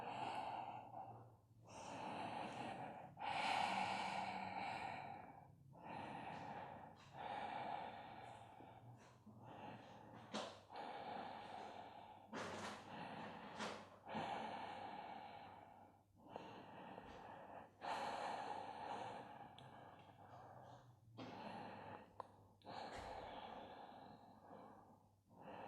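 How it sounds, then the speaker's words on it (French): A yoga student does slow Ujjayi breathing, with long audible breaths in and out that repeat in an even rhythm. The breaths are soft and close, with quiet pauses between them. "Respiration Ujjayi toujours."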